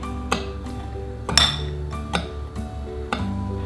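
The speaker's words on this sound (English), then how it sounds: "Stir, stir, stir." A spoon stirs play dough mixture in a bowl, giving a series of sharp clinks and taps at an irregular rhythm, close and fairly loud, with no talk.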